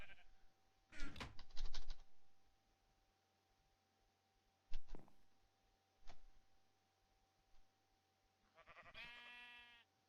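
Sheep bleating in a modded video game, a short wavering bleat near the end, with faint clicks and ticks from machinery scattered across a quiet background.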